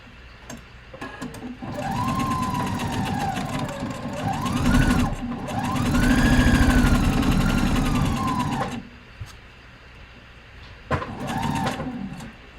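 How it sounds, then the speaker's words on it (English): A sewing machine whirs in bursts as it stitches a 1/2 inch seam, its motor rising and falling in pitch through two long runs, then short stop-start spurts close by. "let's sew these. Same 1/2 inch seam allowance."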